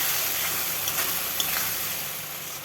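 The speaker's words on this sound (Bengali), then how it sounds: "মশলাটাকেও বেশ কিছুক্ষণ ভেজে নেব, কাঁচা গন্ধ যেন চলে যায়।" Spice paste for katla fish curry frying in a pan, a dense, continuous close sizzle with light stirring scrapes.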